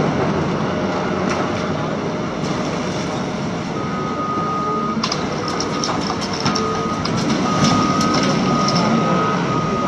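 A fairly new truck at a shredding and loading yard runs with a loud continuous engine rumble, close by, while faint intermittent beeps sound over it.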